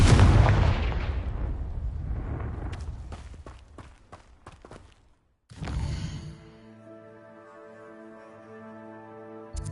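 A Confringo blasting spell from a video game erupts in a loud, booming explosion, followed by a scatter of sharp crackling impacts and a brief drop to silence, then a second blast that rings out into a sustained tonal shimmer.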